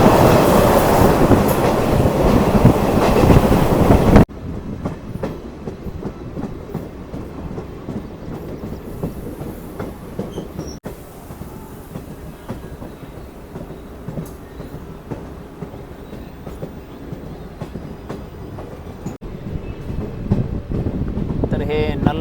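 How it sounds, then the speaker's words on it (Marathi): An Indian passenger train races at high speed between Beed Amalner and New Ashti: constant heavy rumble, rattling carriages and wheel clatter, with wind rushing past the microphone at the open coach window throughout. "एकदम फास्ट रेल्वे चाललेली आहे. आता स्पीड जास्त आहे, एकदम हाय स्पीडमध्ये चालली."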